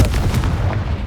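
Confringo blasting spell explosion in Hogwarts Legacy, a single deep booming blast that rumbles and fades over about a second, loud and close.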